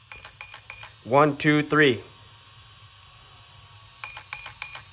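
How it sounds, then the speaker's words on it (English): An Arrma BLX 100 electronic speed control running its setting cycle sounds a row of three quick, bright electronic beeps, then after a brief pause in which a voice counts aloud, another row of three matching beeps. "Second green light beep, let go."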